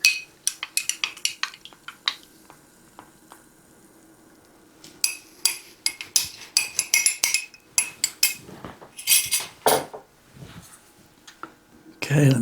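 Chicken Alfredo pasta is stirred in a pot, giving scattered clinks and scrapes of a utensil against metal, sparse at first and then a denser run of louder scraping and knocking.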